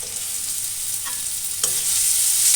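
Salt stirred into chopped onions frying in a pan, a constant bright sizzle with a couple of light scrapes of the spatula, close and steady.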